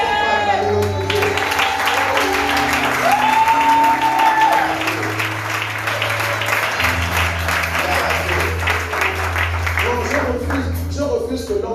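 A church congregation applauding steadily, a broad continuous wash of many hands clapping that runs throughout, with music and voices mixed in beneath.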